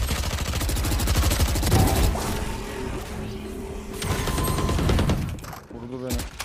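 Loud, dense automatic and rapid gunfire from Valorant, with fast rhythmic bursts, mechanical clatter and impacts, continuing almost throughout before a brief drop near the end.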